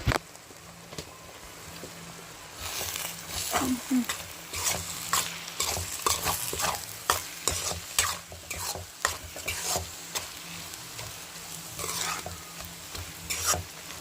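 Food frying and sizzling in a pan as a spoon stirs and scrapes through it, with steady sizzle and irregular clinking strokes close by, no talking.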